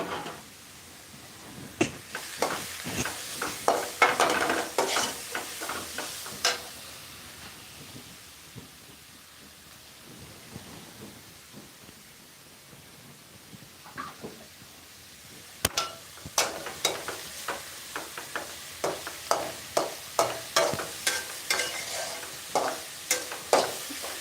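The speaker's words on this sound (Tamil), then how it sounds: "இந்த நெய்யிலேயே நம்ம கொஞ்ச நேரம் இதை வறுத்து விட்டு பாலில் வேக வைக்கணுங்க" Grated carrots for carrot halwa fry in ghee while a spoon stirs them, giving a low sizzle under repeated quick scraping and tapping strokes that come in bursts with a quieter stretch in the middle, with no voices.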